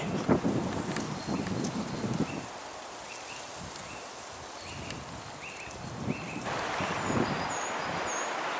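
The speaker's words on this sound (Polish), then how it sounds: "Silny wiatr." Steady outdoor wind roars and buffets the microphone, with low gusty rumbles and rustling throughout, and faint chirps high above.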